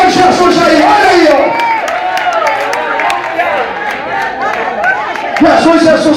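A church congregation shouts praise and cheers together, a loud jumble of overlapping voices with scattered claps, ending in a renewed swell of clapping.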